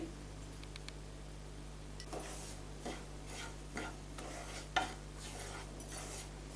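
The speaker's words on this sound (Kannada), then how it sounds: "ಇದಕ್ಕೆ ತುಪ್ಪ ಹಾಕ್ಬಿಟ್ಟು ರವೆ ಚೆನ್ನಾಗಿ ಹುರ್ಕೊಳ್ಳೋಣ" Semolina roasting in ghee in a hot pan, with faint scraping and stirring strokes and small clinks of a utensil over a steady low hum, quiet and close, no talk.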